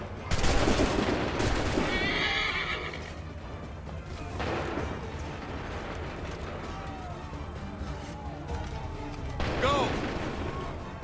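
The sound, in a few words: musket volley gunfire in the video game Assassin's Creed 3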